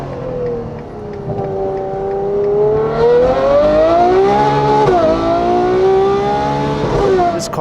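An 840-horsepower Ferrari 812 engine roars loudly and steadily, its pitch climbing and dipping as the revs rise and fall.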